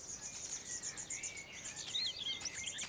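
Barred warbler calling near its nest in a gallery woodland, faint high chirps and short trills over a soft buzz of insects, with a few brief louder call notes.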